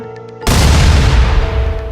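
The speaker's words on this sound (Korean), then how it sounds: "총성이 숲을 울렸고 동시에 근처에 떨어진 포탄의 폭발음이 그 소리를 덮어버렸습니다" A sudden, loud gunshot and the explosion of an artillery shell landing nearby hit together, then a heavy rumble rolls on and slowly fades, a Korean War battle sound effect.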